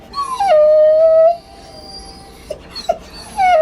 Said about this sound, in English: This is my dog with anxiety.